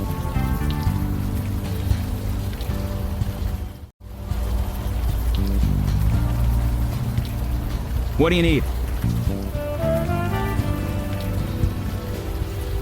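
Steady rain falls at night in Unavowed, a constant hiss of drops on surfaces that continues throughout while a voice speaks briefly over it.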